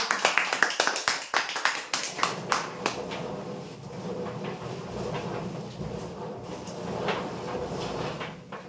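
An audience at a prize draw event claps in a brief burst of sharp, fairly loud applause that fades into a lower, rumbling crowd murmur.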